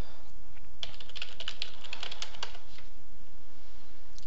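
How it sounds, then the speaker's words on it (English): Quick bursts of clicking keystrokes on a computer keyboard as a web address is typed, close and clear over a steady background hum, with the tapping fading out toward the end and no talking. "we just type in link colon and then paste in the URL there"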